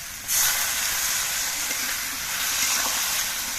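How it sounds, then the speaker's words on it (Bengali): A little water poured into a hot pan of vegetable and small river fish curry sets off a sudden loud hiss of steam and sizzling that carries on steadily. "আমি বেশি জল দেব না অল্প একটুখানি জল দিচ্ছি"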